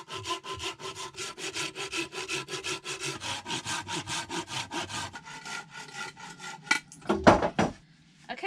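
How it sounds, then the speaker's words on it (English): Handsaw cutting through fairly soft wood for a sawbuck: a steady run of rhythmic back-and-forth rasping strokes, close and clear, that slows and ends with a few clunks and a sharp knock as the piece comes free. "The wood isn't super hard, so I'll be able to do this with my chisel and my handsaw."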